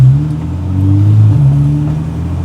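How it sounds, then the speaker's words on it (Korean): A Porsche 911 driven with the roof open accelerates through Apgujeong, its engine note a loud, close, steady drone that rises and swells across the short stretch, with no talk over it. "포르쉐 911을 타고 압구정을 달리다니"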